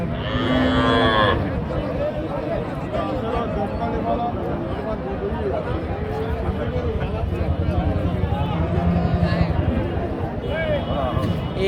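Cattle moo loudly, one long low call up close, over a busy crowd of voices and shuffling at a livestock market in Chaugachha, Jessore.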